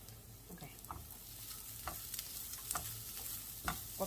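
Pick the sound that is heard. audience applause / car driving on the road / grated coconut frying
grated coconut frying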